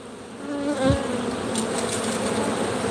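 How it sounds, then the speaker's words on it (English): A swarm of honey bees buzzing around a hive, a dense close drone with one bee zipping past the ear, continuous and with no talk. "Or is this a swarm coming to this hive?"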